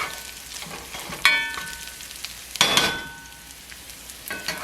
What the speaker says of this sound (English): I'm going to go ahead and add the bacon bits in here so they can go ahead and be warming up